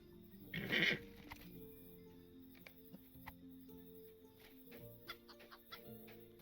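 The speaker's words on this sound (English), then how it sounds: "Let's look for some chickens. There's a chicken." A chicken clucks loudly in a short burst near the start of a Lord of the Rings Online game scene, then fainter scattered game sounds follow, with no talking.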